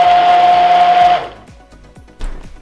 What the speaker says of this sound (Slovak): zoberieme ponorný mixer alebo proste niečo, čím to pomixujete a všetko to pekne zmiešame